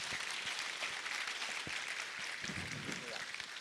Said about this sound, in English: A round of applause for Nana Sase